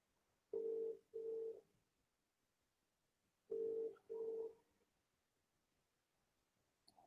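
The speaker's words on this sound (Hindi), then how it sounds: "पहले तो मैं सौम्य को फोन कर दूं, वेट करो।" A telephone gives two pairs of steady electronic tones, separated by a few seconds of near silence, close and clean with a faint click at the end, as a call is dialed.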